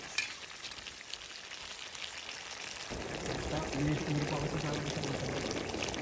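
Broth pours into a sizzling pan of chicken liver and gizzard adobo with string beans, a soft frying hiss swelling into a steady watery rush partway through.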